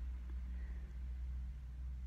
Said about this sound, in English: I just heard a truck go by.